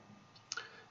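A single computer mouse click while a catchment shapefile is opened in QGIS, a brief sharp tick standing alone over faint room noise.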